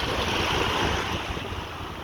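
Big ocean waves breaking by the water on a windy day, a continuous roaring wash of surf mixed with heavy wind buffeting the microphone, loud and close throughout.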